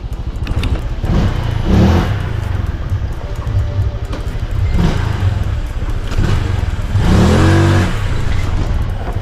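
Honda Click scooter with 13 and 15 gram fly balls in a tuned CVT, its engine droning loudly at top speed as it surges and swells in waves, with no talk over it.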